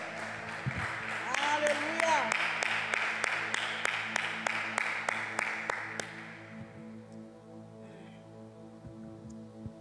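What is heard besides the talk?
congregation applauding in church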